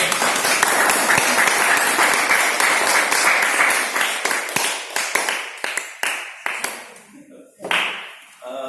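Audience applause at an indoor talk or forum, a dense burst of many hands clapping that thins out into scattered individual claps and fades toward the end.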